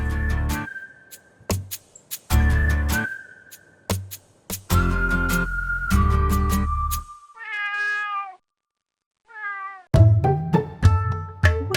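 A cat meows in a string of clear, close, drawn-out calls, some wavering and rising, separated by short gaps and bursts of other noise.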